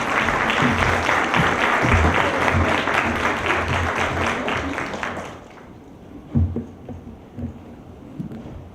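Applause from a lecture audience for a guest doctor giving a keynote on transparency, a dense sustained clatter of many hands that fades out after about five seconds, leaving a few scattered claps and room noise.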